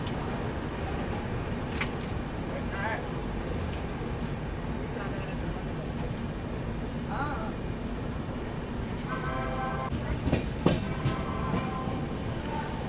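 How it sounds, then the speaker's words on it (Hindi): The Mahabodhi Express train departs Prayagraj Junction, its steady rumble and rolling wheel noise running continuously, with intermittent clicks and rattles from the cars. "प्रयागराज जंक्शन से अपनी ट्रेन निकल चुकी है"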